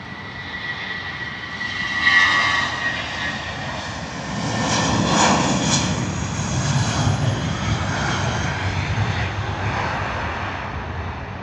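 Airliners on final approach into Heathrow, a broad steady jet roar that swells around the midpoint and stays loud and continuous throughout, with no voices.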